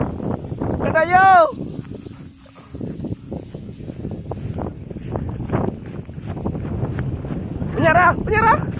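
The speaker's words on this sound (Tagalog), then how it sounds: "Grabe lakas ng hangin guys, oh." Strong wind roars and buffets the microphone outdoors while a bulls kite is flown, a steady loud rush throughout, with voices shouting and talking over it.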